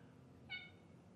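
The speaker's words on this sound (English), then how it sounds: "my kitty just cried in the background." A house cat lets out a single short, faint meow in the background of a quiet indoor room.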